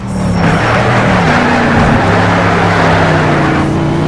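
A loud, continuous racing car engine drone in the video game Need for Speed Shift, with shifting pitch as it revs and changes gear, accompanied by a harsh roar of squealing tires.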